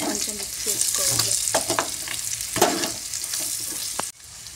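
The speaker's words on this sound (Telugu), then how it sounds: "ఆయిల్లోనే ఫ్రై చేయాలి చికెన్ మొత్తం." Chicken pieces coated with chili powder and salt fry loudly in oil while being stirred, a dense close sizzle with scraping stir strokes throughout, ending in a sudden drop.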